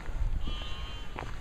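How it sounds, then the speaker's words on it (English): Sheep bleat faintly in the distance, a couple of short wavering calls over a low rumbling background hum. "sheep are making noises"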